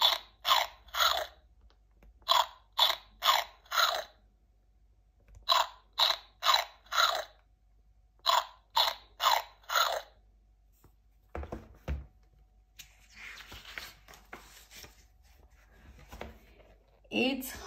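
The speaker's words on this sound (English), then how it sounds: "And our toast is too crunchy." Crunchy toast being bitten and chewed in a cartoon clubhouse, a run of sharp, evenly spaced crisp crunches in groups of three or four with short pauses between them, loud and close, followed by softer rustling noises.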